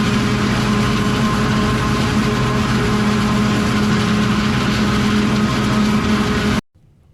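A forage harvester chopping corn silage and blowing it into a truck gives a loud, steady low engine drone with a dense mechanical roar that runs unbroken for several seconds and then cuts off abruptly.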